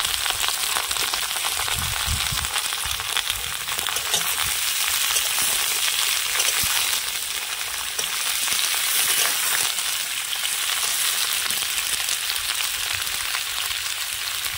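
Large-cut potatoes frying in hot oil in a home kitchen, a steady dense sizzle running unbroken throughout, close and moderately loud, with occasional faint stirring scrapes and no talking.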